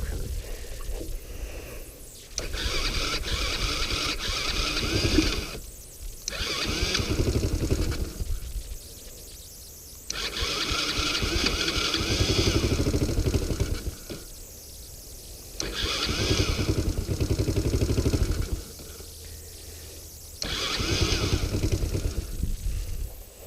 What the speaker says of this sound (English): this one kind of likes to start without a choke